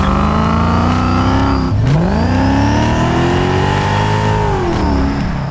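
Mercedes E55 AMG V8 fitted with long tube headers, driven on the road: a loud, continuous engine drone that dips and then climbs steadily as it accelerates through the revs, with no talk.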